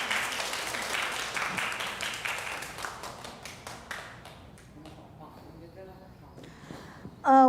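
Audience applause at a kindergarten music and dance recital, rhythmic clapping that gradually thins out and fades, followed by quiet murmuring and a voice starting at the very end.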